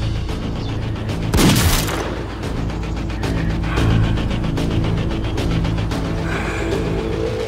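A single sharp gunshot is fired at a target at a shooting practice, a loud close crack that fades into a quieter background rumble, with no talking.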